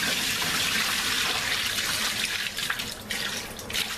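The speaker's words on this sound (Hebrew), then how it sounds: "נחליף את המים, נשים מים נקיים" A kitchen tap runs in a steady, loud stream while water is changed on chickpeas soaking for hummus, the splashing shifting slightly near the end.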